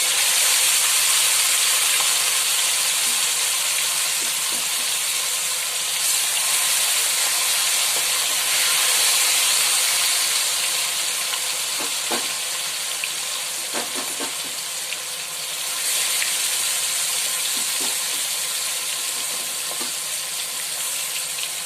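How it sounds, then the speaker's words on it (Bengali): Marinated chicken pieces fry steadily in hot oil and ghee, a continuous close sizzle and hiss with occasional faint pops and clinks, no talking. "এবারে ম্যারিনেট করা চিকেনগুলো থেকে পিসগুলোকে তুলে আমি ভালো করে ভেজে নিচ্ছি।"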